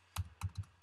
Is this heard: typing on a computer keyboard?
yes